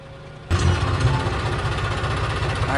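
A tractor engine kicks in abruptly after a brief quieter moment, then runs with a loud, steady low rumble and rattling vibration close by at night.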